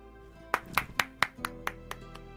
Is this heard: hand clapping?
yes